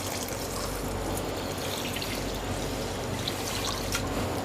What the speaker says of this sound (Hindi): ये जो 1 लीटर पानी है ना, आपने इस चीनी में डाल देना।